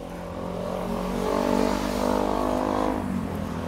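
A motorcycle revving past on a street in Venice, Santa Monica, an engine drone that swells to a peak and then fades as it goes by, with no speech.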